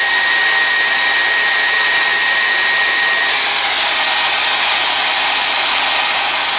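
A heat tool blows steadily as it warms a plastic Godzilla figure part, a loud continuous airy whoosh with a constant motor hum and no pauses.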